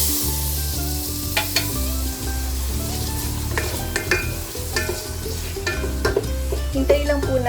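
Tomatoes sizzling steadily in a hot pan while sautéed for salmon sinigang, with a dense continuous crackle and occasional stirring clinks throughout, no voices.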